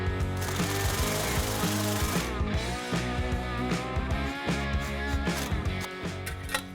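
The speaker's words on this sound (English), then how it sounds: "we're just going to snug this clamp up for now" An exhaust clamp being tightened on a 2018-2022 Mustang GT during a stainless steel axle-back install, with rapid metallic ratcheting and clicking bursts close by, continuous and fairly quiet.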